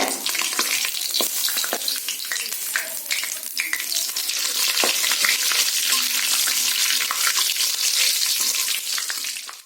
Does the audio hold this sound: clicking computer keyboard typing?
no